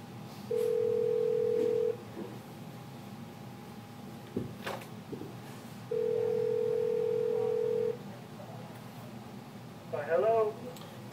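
Office telephone dialing out for a real estate cold call to an expired listing, with two long steady tones, a short click between them and a faint ringback burst near the end.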